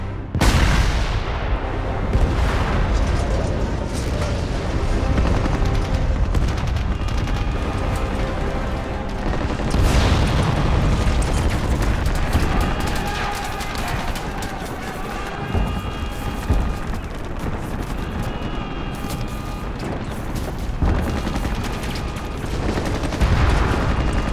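A second cannon fires in a wartime coastal battle scene, with heavy booming blasts and rumbling reports under loud, shouted commands and talk throughout.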